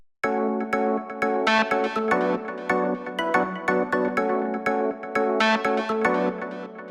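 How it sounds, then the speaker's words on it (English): Organ and Wurlitzer electric piano layer playing sustained, stacked chords in a classic house track, with rhythmic chord stabs and swells repeating steadily, loud and alone with no voices. "Then we have this organ and Wurlitzer layer"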